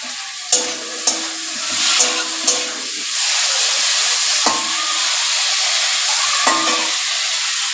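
Rice boils in a cooking pot with a steady loud hiss and bubbling, broken by several sharp clinks of a utensil against the pot, close and without talk.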